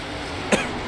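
A single short cough bursts out mid-clip, close and sharp, against a low steady background hum.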